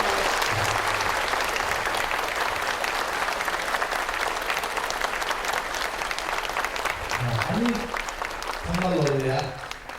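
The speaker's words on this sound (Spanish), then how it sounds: "Es que un aplauso bien grande para ellos." Audience applause at a Spanish-language talk, sustained and full throughout, with short bits of voices breaking through near the end.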